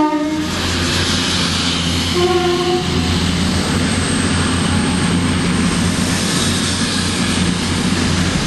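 A Class 221 Voyager passenger train passes close by on a line near Rugby, making a loud, sustained rushing roar. A brief horn-like tone sounds at the start.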